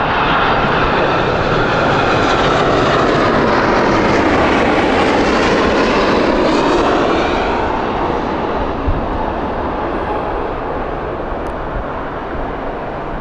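Jet engines of a Saudia airliner at Heathrow roar loud and close, swelling to a peak midway and then fading as the aircraft moves away, with no talking.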